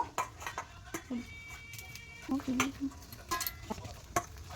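Boiled potatoes being mashed and mixed by hand into aloo paratha filling with fried onion, sugar, garam masala, chili, cumin and salt: soft, close squelching and irregular taps in short bursts.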